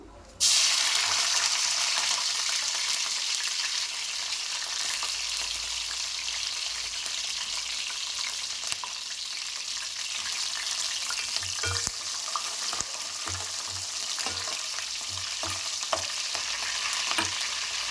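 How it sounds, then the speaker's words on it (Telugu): Green chillies and curry leaves frying in hot oil, a loud, steady crackling sizzle that bursts in abruptly and continues close and unbroken throughout, with occasional stirring clinks. "చూడండి, ఆయిల్ వేడైపోయింది. ఇప్పుడు మనం పచ్చిమిర్చి, కరివేపాకు వేసుకుందాం."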